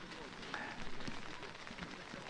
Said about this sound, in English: the rain pelts down here